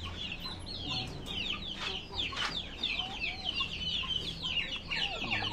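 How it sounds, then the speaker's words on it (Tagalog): Turkey hens clucking inside a pen on an organic poultry farm, a steady run of close, overlapping clucks and calls mixed with chicken sounds throughout. "Yan yung inahin ng pabo."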